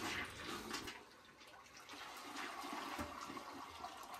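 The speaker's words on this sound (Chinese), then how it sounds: "不过听这个马桶的冲水声音还是挺有劲儿，" A toilet flushes forcefully after a dual-hole leak repair, a loud continuous rush of water that swells and churns steadily throughout, with no one speaking.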